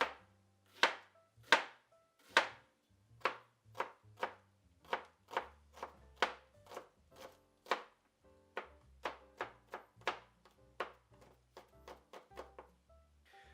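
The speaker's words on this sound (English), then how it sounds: "Chop these up, nice and thin." A knife chops onions into thin slices on a cutting board, about twenty crisp, evenly paced strikes, close and clear with no talking.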